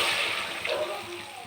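Water poured into a pan of Bengali tangra fish curry, a brief close splash and slosh that lasts a moment and then fades.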